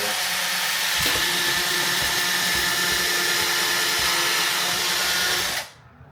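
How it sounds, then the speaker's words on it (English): A power drill whines steadily at high speed, grinding through a stack of plastic plant pots, then cuts off abruptly near the end. "We'll see if we can drill through all these at once"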